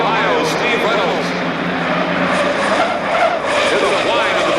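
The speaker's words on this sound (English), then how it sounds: "Hear the whine of the propeller. That's the propeller going in and out of the water." A racing hydroplane roars past on the Ohio River during the 1986 season, its engine loud and sustained while the propeller whines in and out of the water.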